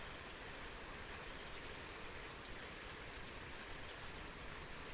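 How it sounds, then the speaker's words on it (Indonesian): Steady rain falls with a dense, even hiss that stays unchanging and fairly faint throughout, with no voices. "Wah, hujan."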